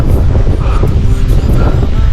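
Strong, gusty wind on a misty mountain trail buffets the microphone in a constant loud roar that stays thick and unbroken from start to finish.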